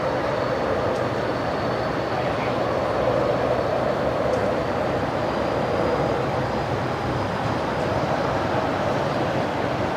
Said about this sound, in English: One of the BAE 146s there, taxiing out for a departure.